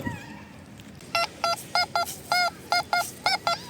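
A mini metal detector gives a target signal in a field during a coin hunt, sounding a series of about ten short, clean electronic beeps in an irregular rhythm, close and clear over a quiet outdoor background.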